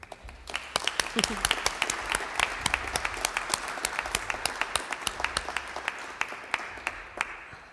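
An audience at an Arizona infrastructure project celebration applauds the team that delivered it, with steady, dense clapping and sharp individual claps standing out throughout.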